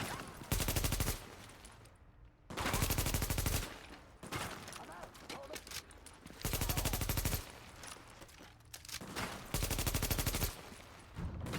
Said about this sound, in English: That shotgun's a little scary